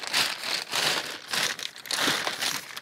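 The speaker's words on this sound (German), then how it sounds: "ich hoffe, das raschelt jetzt hier nicht zu sehr" A bag full of old car parts for a Honda Prelude BA4, such as control units, relays and hinges, rustles and crinkles loudly up close in repeated handling bursts, with no voices.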